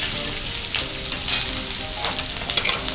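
Green chillies sizzle in hot tempering oil for rava pongal, a steady crackling hiss with sharp spitting pops, close and fairly loud, no voices.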